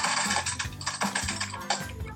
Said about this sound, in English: Like me spamming keyboard.